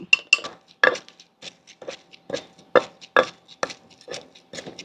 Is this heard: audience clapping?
no